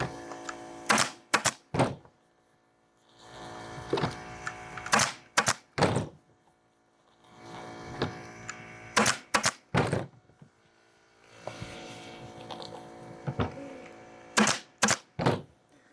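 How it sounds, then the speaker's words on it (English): A pneumatic staple gun fires staples in quick pairs and triplets of sharp, loud snapping thunks, with quieter hissing and handling noise between the bursts. "this air pressure is just perfect. It's not shooting the staples too far"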